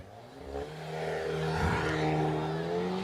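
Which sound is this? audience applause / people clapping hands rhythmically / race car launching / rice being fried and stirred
race car launching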